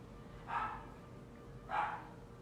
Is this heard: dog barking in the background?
yes